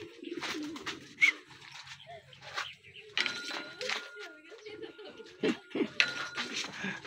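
Racing pigeons coo and call repeatedly at a race-training release in Pakil and Lumban, Laguna, close and fairly loud, with people talking over the birds.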